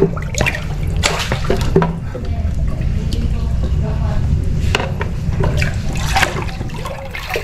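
Water drips and trickles indoors during a typhoon, a wet running and dripping sound under close conversation.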